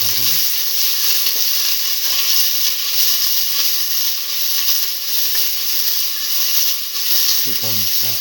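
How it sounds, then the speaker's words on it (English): Shallots and garlic sizzle steadily in a pan while being sauteed, a continuous close frying hiss throughout with occasional faint stirring. "Keep on sauteing until the onions lose pinkish color."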